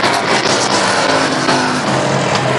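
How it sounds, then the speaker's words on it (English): Street stock race cars roar around an oval racetrack during a feature race, a loud, continuous engine drone with shifting pitch as cars pass. "Steve Grant in the 96 car. He is all over the racetrack"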